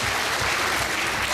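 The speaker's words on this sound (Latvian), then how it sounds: "Aplauss, man patīk." Audience applause at a local talent and hobby show in Iecava, a steady dense clapping filling the hall at close range, loud and continuous with no voices over it.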